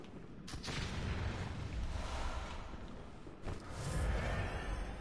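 Gunshots crack twice in Bloodborne, each a sharp blast set against a dense, roaring game soundscape, with several seconds between them.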